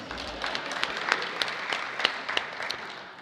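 A crowd applauds steadily, many hands clapping at once with a few sharper claps standing out, moderately loud throughout.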